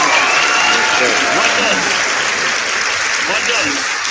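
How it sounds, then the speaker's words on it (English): A studio audience at a live Miami Hurricanes talk show gives a sustained round of applause. The clapping is close and loud, and voices talk and call out over it throughout. "another round of applause"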